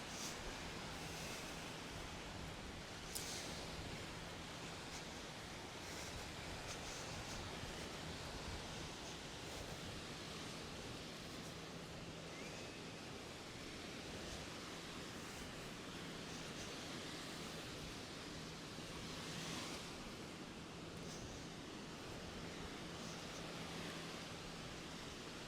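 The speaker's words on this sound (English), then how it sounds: "so you guys can hear the nice sounds of the waves" Steady ocean surf rushes continuously on a beach, a broad constant wash of waves with a breezy hiss and no voices.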